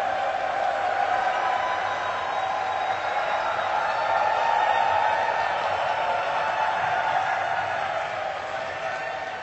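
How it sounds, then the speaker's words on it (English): A large crowd at a Dota 2 esports event makes a sustained roar of cheering and noise, steady and loud throughout with no clear breaks. "Now let's get you guys cheering once again so everybody start making some noise"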